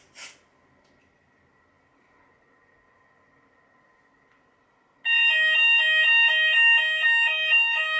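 A Hochiki addressable fire alarm system under detector test: after a brief click and a long stretch of faint hum, a loud, shrill electronic sounder starts abruptly and keeps up a fast, repeating two-tone warble, with no talk.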